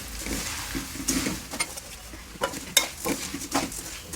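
Puffed rice (maramaralu) being stirred in a hot pan with spices, salt and chilli for masala borugulu, giving a steady close dry rustle and sizzle with scraping strokes and light clinks throughout.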